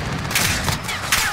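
Gunfire in the video game Modern Warfare 2019, a dense crackle of shots and bursts from a distance, steady over game noise with a couple of sharper cracks toward the end.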